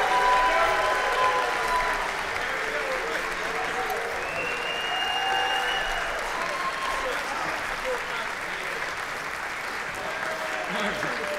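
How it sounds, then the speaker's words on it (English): A school jazz band's audience gives a full round of applause after a performance, many hands clapping densely and steadily with a few whoops and voices mixed in, slowly tapering. "big round of applause for the whole group"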